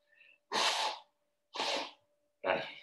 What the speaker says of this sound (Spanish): hago ruidos muy raros para quitarme los estornudos aquí en, pleno estudio